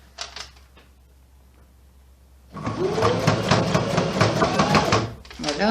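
A sewing machine stitches a top made from a skirt, running a quick burst of forward and backward stitches after a quiet pause, with a fast, loud mechanical clatter close by.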